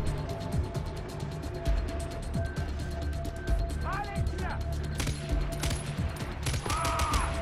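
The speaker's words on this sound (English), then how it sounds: "apparently you can shoot through walls" Rapid repeated gunfire in Far Cry 4, firing through walls, a fast steady stream of shots with mechanical clicks and rattles, while someone talks over it throughout.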